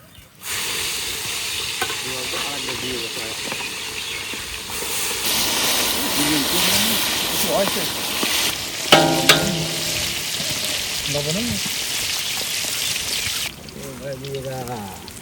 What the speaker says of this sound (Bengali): হ্যাঁ তেল দিতে গেছে আমরা মাছটা ভাজিয়ে নেবো